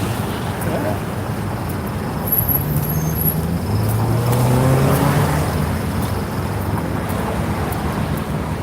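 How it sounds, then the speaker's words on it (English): A sports car drives past on a downtown Denver street, its engine note swelling and fading at mid-distance amid steady traffic and wind noise. "It's a fun little sports car."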